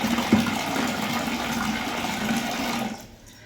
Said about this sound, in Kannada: ನೋಡಿ, ನೀರು ಬರ್ತಾ ಇದೆ.